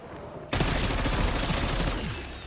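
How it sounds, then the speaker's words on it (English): The Mangler cannon in a zombies video game fires a sudden loud blast that stays loud as a dense rumbling roar for about a second and a half, then fades. "Oh, it was just the Mangler cannon."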